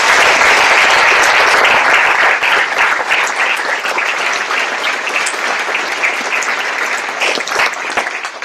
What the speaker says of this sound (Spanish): Me gustaría dar un aplauso a todos ellos.